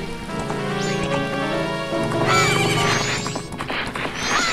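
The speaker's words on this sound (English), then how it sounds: "Go, horsey, go." Horse in the video game Majora's Mask neighs loudly, with a long shrill whinny over continuous clip-clop galloping, then more rising squeals; game music plays underneath and no one talks.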